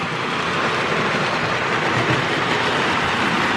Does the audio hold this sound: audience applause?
no